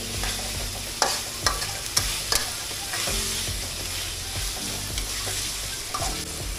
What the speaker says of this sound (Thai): เริ่มผัดให้เข้ากันนะให้เข้าเนื ้อผัดไปเรื่อยๆครับ